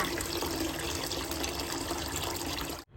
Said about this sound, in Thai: นำข้าวเหนียวมาล้างให้สะอาดแล้วเทน้ำทิ้ง